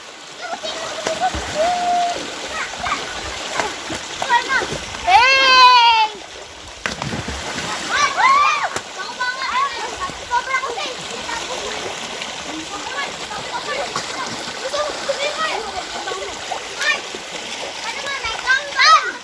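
Children splash and play in water, with bursts of splashing amid their excited shouts and chatter, a flowing stream running steadily underneath.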